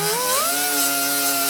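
A weld on rusted car floor pan metal being ground down with a 36 grit roll-lock disc, a loud steady high whine from the tool that rises in pitch then holds, close and continuous.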